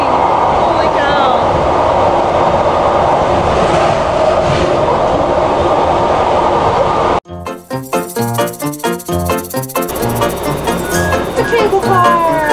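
Night train interior with a constant rattling rumble from the carriage, then an abrupt change to rhythmic clattering pulses and squeals as it rolls on, loud and close, with people talking at times.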